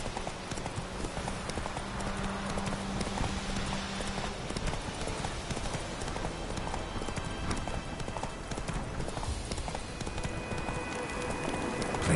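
The horse Roach gallops in The Witcher 3, a fast, steady clip-clop of hooves running continuously, fairly loud and close, with faint ambient sound beneath.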